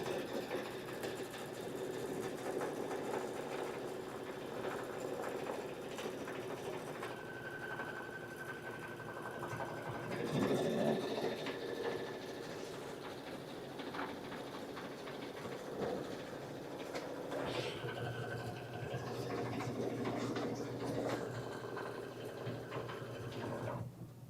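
Embroidery sewing machine stitching a design, a steady fast mechanical whir and rattle with shifting tones as the needle moves, fairly quiet and continuous.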